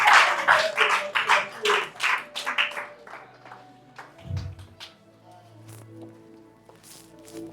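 A church congregation claps during a French-language worship vigil led by a prophet, the rapid bursts of hand claps loudest at first, then thinning into scattered taps over a low hum and murmuring voices.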